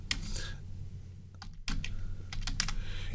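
Keys clatter on a computer keyboard in quick irregular bursts, with a short pause midway, close and moderately loud over a steady low hum.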